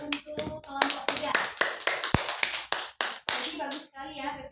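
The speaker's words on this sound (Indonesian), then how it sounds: "kita beri tepuk tangan terlebih dahulu untuk kelompok 3" Clapping for a student presentation group in a classroom, a small group of hands striking in a fairly regular rhythm, close and crisp, with brief voices near the end.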